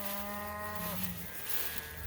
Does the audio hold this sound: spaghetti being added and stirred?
no